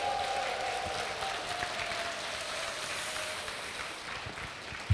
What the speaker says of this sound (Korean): 서로를 위해서 박수 한번 부탁드립니다.